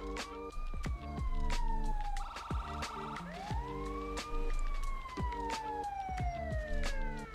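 Emergency siren in the GTA V video game, a loud wailing tone sweeping up and down continuously alongside steady electronic yelp patterns, close and dominant throughout.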